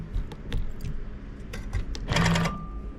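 A sewing machine stitches quilting on a June Tailor shopping tote, with short bursts of rapid mechanical clatter and a louder run near the end, heard alone and close.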